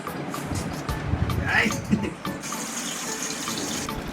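Water trickles and gurgles as it is siphoned from a fish tank, a steady flow up close with a short sucking sound partway through.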